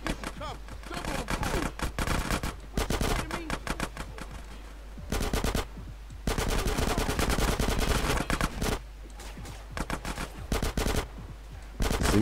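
Rapid bursts of gunfire in GTA San Andreas ring out loud and close, with volleys of shots separated by short pauses throughout.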